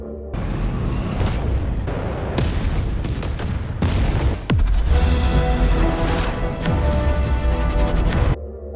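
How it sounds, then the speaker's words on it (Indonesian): A loud, dense barrage of booms and sharp blasts from missiles exploding in a sci-fi film, explosions overlapping one after another with rumbling low end, like a battle. "rudal-rudal yang ditembakkan meledak akibat gesekan"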